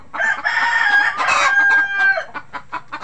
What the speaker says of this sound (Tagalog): Nandito rin yung iba nating Rhode Island Red